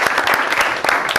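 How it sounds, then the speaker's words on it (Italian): Short burst of studio applause for a youth-focused basketball club on an Italian basketball TV show, brisk and close with distinct individual claps standing out from the dense clapping. "Quindi un applauso al Pio Sasco Basket"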